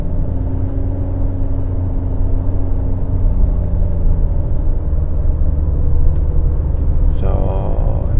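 A Chevrolet Trax on 16-inch wheels climbs a steep slope at around 2300 RPM, its engine a steady low droning rumble heard from inside the cabin, with road noise and a brief rise in tone near the end.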